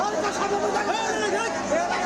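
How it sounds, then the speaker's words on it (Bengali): Passengers crowd onto a train as it halts at a railway platform, a steady, dense hubbub of many overlapping voices and shuffling movement that stays close and busy throughout. "প্ল্যাটফর্মে ট্রেন থামতেই হুমড়ি খেয়ে পড়েন যাত্রীরা"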